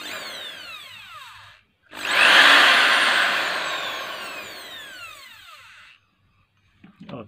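A repaired electric drill switched on, whirring loudly at a steady high pitch for about four seconds and slowly winding down, with a brief lower motor run and a click before it.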